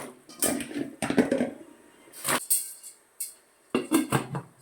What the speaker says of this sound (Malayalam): നമുക്ക് ഈ കപ്പ അങ്ങോട്ട് ഇടാം കേട്ടോ